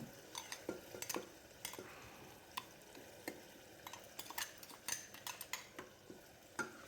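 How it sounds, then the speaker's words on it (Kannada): Ground masala and vegetables fry in a pan for vegetable pulav, with a low sizzle under frequent sharp scrapes and clinks of a spoon stirring against the metal. "ಮಸಾಲೆ ಸ್ವಲ್ಪ ಹಸಿ ವಾಸನೆ ಹೋಗೋವರೆಗೂ ಫ್ರೈ ಮಾಡ್ತಾ ಇದ್ದಾನೆ"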